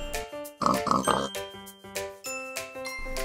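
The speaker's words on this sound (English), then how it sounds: "Some pig." A cartoon-style pig oinking in short grunts over a tinkling, jingly children's music bed, close and clear, several quick snorts in a row.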